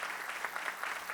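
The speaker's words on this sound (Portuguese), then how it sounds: "uma salva de palmas para o Guilherme." Conference audience applauding a speaker at a tax-inspection forum, a dense steady wash of many hands clapping throughout, moderately loud and close.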